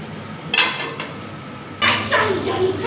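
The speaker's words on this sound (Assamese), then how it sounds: "পিঁয়াজখিনি অলপ ভাজি লৈছোঁ তাইৰ লগত" Onions frying in a pan while mutton pulao is cooked, heard as a soft sizzle broken by metal utensil scrapes and clinks of stirring, two louder stirring bursts standing out close by.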